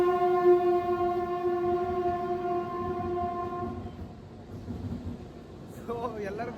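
A train engine with a coach at Bagalkote railway station sounds a long, loud, steady horn for about four seconds, then low rumbling and a voice talking over the noise.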